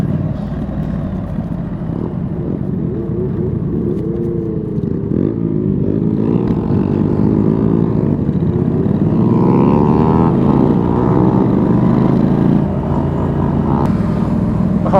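A Honda Grom motorcycle engine revs loudly and close during a group bike meet ride-out, its pitch rising and falling in continuous drawn-out sweeps with no talking.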